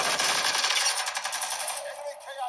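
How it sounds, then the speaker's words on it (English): Light machine gun fire in Warzone Mobile, a rapid, dense run of shots that carries loudly through most of the burst and thins out toward the end. "Okay, this is an LMG."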